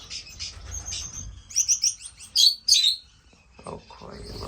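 Lovebirds kept in a finch bird room give bright, clustered chirps and tweets, loudest in a burst midway, with faint room noise and a voice briefly at the end.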